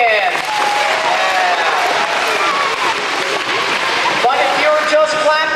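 A room full of children claps loudly and continuously at a science show, a dense, even wash of applause with faint voices mixed in.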